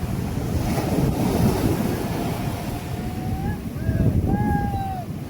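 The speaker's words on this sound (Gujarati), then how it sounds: "અહીંયા મોજા કેવા આવે છે" Sea waves surge at a fishing harbour as boats head out, a constant heavy roar mixed with strong wind buffeting on the microphone and a few faint high whistling tones.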